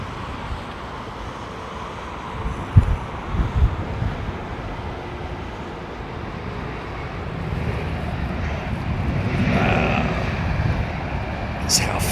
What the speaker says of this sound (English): That's how efficient those aircraft are, man. Idle thrust.